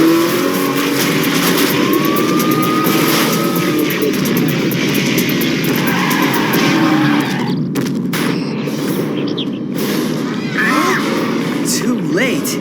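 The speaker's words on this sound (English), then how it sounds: "I've been waiting to test the truck's new nitro injection system" A truck engine fitted with a new nitro injection system revs and roars loudly and steadily, with a boom and cutting bursts near the end, all beneath a busy action-cartoon soundtrack.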